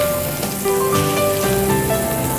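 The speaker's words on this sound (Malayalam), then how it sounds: "കുറച്ച് എണ്ണ ഒഴിച്ച് കുറച്ച് കടുകിട്ട് നല്ല കറിവേപ്പില ഇട്ട് കൊടുക്കുക." Mustard seeds and curry leaves sizzle and crackle in hot oil in a pan during a Goan cuisine cooking competition round, giving a steady, close frying hiss with no talk.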